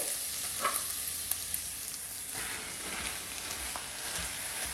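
Minced meat with translucent onion frying in a pan, a steady close hiss of sizzling with a few faint clicks and scrapes, no voices.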